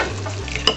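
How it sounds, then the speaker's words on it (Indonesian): A spoon stirs seasoning and oil together in a dish for home-style kwetiau soup, giving a short, close scraping and swishing with a faint sizzle and one sharper clink near the end. "Aduk-aduk dulu biar matang apanya, bumbunya kena"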